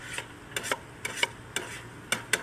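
Vegetables are added to a chili pot and stirred, giving several short scraping, clattering bursts spaced irregularly over a soft background hiss.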